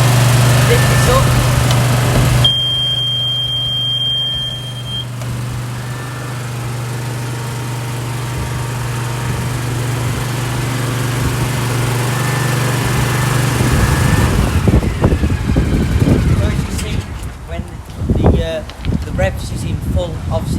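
A Husqvarna R420TSX AWD ride-on lawn mower engine runs steadily, then its pitch and roar climb as it revs to full, with rattling and wind buffeting growing louder near the end.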